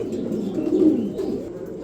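Racer pigeons, including a breeding pair at a sale, give a soft, low, throaty coo that swells and then ebbs, close by and with no talk over it.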